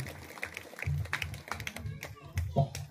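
An audience at a kirtan claps for the musicians, a scattered patter of hand claps mixed with a voice speaking over them.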